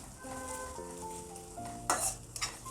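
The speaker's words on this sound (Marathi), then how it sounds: "आपण आधी शिमला मिरची घालूया एक दहा सेकंद परतून घेऊया" Capsicum stir-fried in a pan for a vegetable chowmein, a steady sizzle with stirring scrapes and a couple of sharp utensil clacks near the end, set against a melodic background tune.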